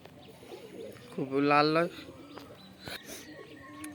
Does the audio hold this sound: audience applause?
no